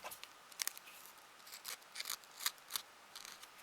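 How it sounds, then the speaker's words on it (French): Small scissors trim a foam ball, with a series of close, crisp snips in irregular quick bursts against near silence. "après, j'enlèverai avec un tout petit ciseau"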